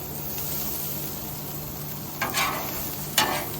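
Onions and bacon sizzle steadily on a low-heat griddle outdoors, a close continuous crackling hiss broken by a couple of sharp scraping stirs.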